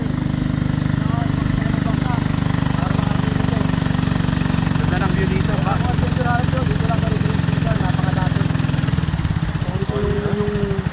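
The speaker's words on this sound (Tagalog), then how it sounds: "nakasakay kami sa bangka na di-motor fiberglass" A motorized fiberglass river boat near Wawa Dam in Rodriguez, Rizal runs with a steady, close engine drone throughout, while people talk over it.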